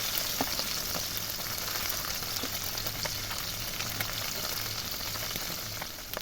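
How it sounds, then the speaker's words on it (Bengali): Tangra fish fry in hot oil in a wok, a steady close sizzle with scattered sharp crackles and pops throughout and no voices. "আর তেল হয়ে গেছে গরম। এবার আমি ট্যাংরা মাছগুলোকে এর মধ্যে দিয়ে দেব।"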